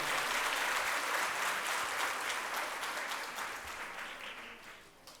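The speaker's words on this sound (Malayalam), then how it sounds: "അപ്പോൾ അഷേസിനെ നമ്മൾ പ്രത്യേകം എല്ലാവരും ഒരു കൈയടിക്കേണ്ട ആവശ്യമായിട്ട് തോന്നുന്നു" A crowd at a Malayalam community cultural programme applauds with dense, sustained clapping that gradually fades toward the end.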